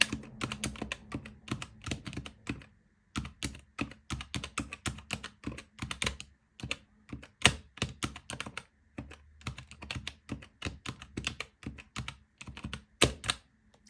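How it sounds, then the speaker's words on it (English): Fast typing on a computer keyboard, dense bursts of key clicks with brief pauses between runs, close and clear with no talking. "I got to do some typing"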